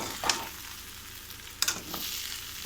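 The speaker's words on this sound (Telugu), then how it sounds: "కొంచెం ఫ్రై కావాలి, బాగా డీప్ ఫ్రై కావాలి." Raw plantain pieces deep frying in hot oil, a steady soft sizzle with a couple of brief stirring scrapes and crackles, close and alone without talk.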